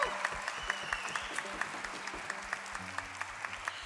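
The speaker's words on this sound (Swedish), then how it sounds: "Han är också värd en varm applåd." Audience applause at a performance of a Gotland folk-music drama, with rhythmic claps from many hands mixed with a distinct, regular clapping beat, moderately loud and continuous.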